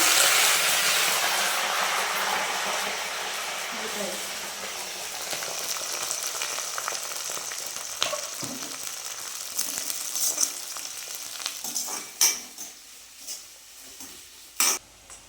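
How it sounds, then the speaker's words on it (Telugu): Green chillies and curry leaves crackle and spit in hot oil in a chicken curry pan, a dense continuous sizzle that slowly settles, with a few sharp pops and spatters near the end. "నూనె అయితే కాగిందండి పచ్చిమిరపకాయలు వేస్తున్నా కరివేపాకు"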